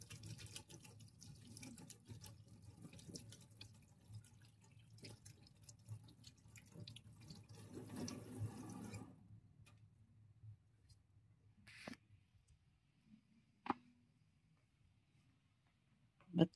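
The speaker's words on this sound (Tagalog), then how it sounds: "Maghugas tayo ng kamay." Running water from a tap splashes steadily as hands are washed under it, then stops abruptly, leaving faint drips and a few small clicks close by.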